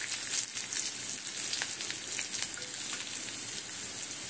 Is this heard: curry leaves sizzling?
yes